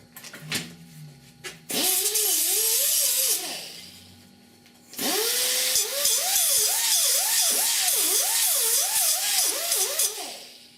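An angle grinder dresses a fabricated steel patch panel for a rusted 1969 C10 core support, whining in two long loud bursts separated by a pause, its pitch dipping and rising repeatedly as the disc bites the metal.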